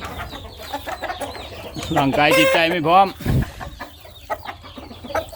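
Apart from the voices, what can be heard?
Burmese chickens clucking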